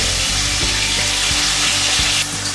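Beef frying in oil in a pan gives a loud, dense, continuous sizzle up close, broken by a few soft stirring knocks and easing slightly near the end.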